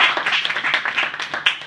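Short burst of audience clapping at a stand-up comedy show in a sports-bar basement, a small crowd's quick uneven claps rising and falling close by, no talking.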